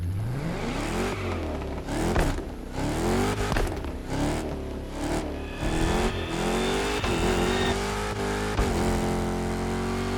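A car engine runs and revs repeatedly, its pitch rising and falling through several loud, close bursts with no talking.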